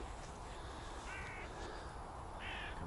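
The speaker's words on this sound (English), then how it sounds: "Little crows." Several crows caw outdoors on a cold winter day at minus four, two short harsh calls standing out at moderate distance over steady wind-like background noise, with no talking.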